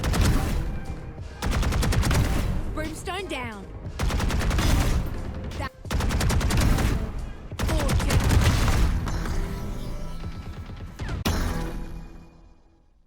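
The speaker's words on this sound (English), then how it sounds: "The gun sounds are muffled, and the kill banner sounds are also muffled." Muffled bursts of RGX 11Z Pro Vandal gunfire in the Valorant shooter, rapid rounds in several clusters with short gaps, under a brief voice callout.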